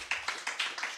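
A church congregation claps in a quick, steady rhythm, about six claps in a second, sounding faint and somewhat distant.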